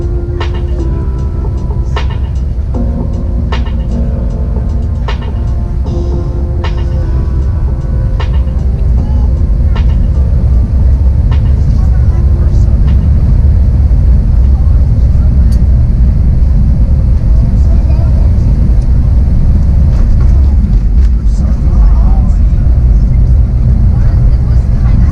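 Cabin of a Play Airbus A321neo on descent and landing on runway 01 at Keflavík, a loud steady roar of engine and airflow with rumbling and rattling throughout, no speech.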